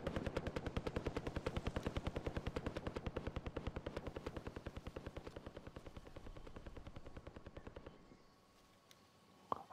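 Rapid, evenly spaced automatic gunfire in Call of Duty: Modern Warfare, a long, steady rattling burst that gradually fades, followed by quiet and a final sharp crack.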